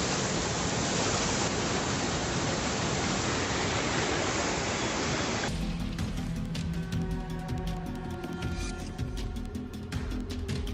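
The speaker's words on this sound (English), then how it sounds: "Powerful floodwaters in Spain swept multiple cars off the streets within seconds." Loud, continuous roar of floodwaters rushing through streets in Spain after heavy rain, steady throughout, sweeping cars along, with some clattering debris in the later part.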